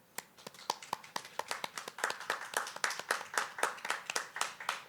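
Graduation ceremony audience applauding graduates: crisp individual claps start sparse, then quickly thicken into steady, rhythmic clapping from a moderately close crowd.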